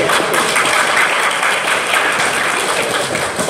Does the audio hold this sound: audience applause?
yes